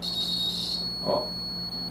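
A multimeter beeps for continuity across the terminals of a refrigerator thermostat, a steady high-pitched tone that sounds for under a second, then stops as a brief faint clunk follows in a quiet room.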